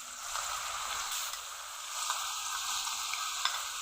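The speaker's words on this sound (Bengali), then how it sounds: "কিছুক্ষণ কষিয়ে নিতে হবে, এভাবে নেড়ে নেড়ে।" Garlic and tamarind stir-fried in hot oil for coriander pickle, giving a soft continuous sizzle with faint, gentle stirring scrapes throughout, fairly quiet and without speech.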